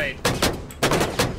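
Gunfire in a shooter video game, four sharp shots in two quick pairs, loud and close, with short pauses between them.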